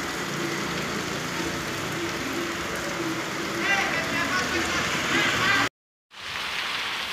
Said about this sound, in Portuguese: Olha a chuvona aqui na pinheira.